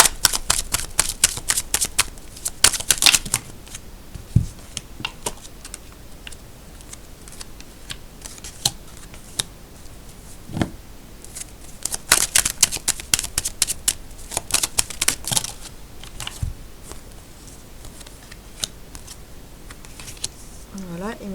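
Tarot cards are shuffled and handled close up during a reading, with repeated crisp riffling bursts, flicks and taps spread across the stretch, while someone talks softly at times.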